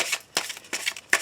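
Oracle cards shuffled by hand for a card reading, four quick papery riffling bursts in a steady rhythm, close and moderately loud, no talking.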